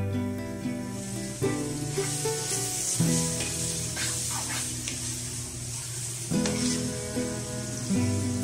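Peanuts, coconut powder, sesame and poppy seeds roast in a pan over a low flame, a steady soft sizzle with scraping stirs, accompanied by a sustained droning tone throughout.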